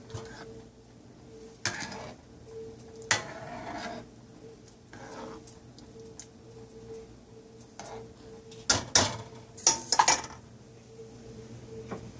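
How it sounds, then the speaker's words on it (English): A spoon clinks and scrapes in a pot of Tom Kha Gai soup, a few sparse taps and knocks spread out over quiet stove hum, with a brief louder cluster of clatters near the end. "Just stir this a little bit."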